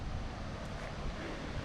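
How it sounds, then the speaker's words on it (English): A small waterfall beneath the Parapet Bridge in Mill Creek Park, Youngstown, Ohio, produces a constant, close, full-bodied rush of falling water with no breaks. "There's the little waterfall over there."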